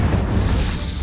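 Incendio fire spell cast in Hogwarts Legacy, a loud, rumbling burst of flame with a booming low-end roar that sustains for about a second without fading.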